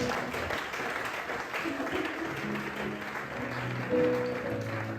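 A church congregation at a Sunday service applauds in a steady, moderately distant wash of clapping, with voices and faint tones mixed in.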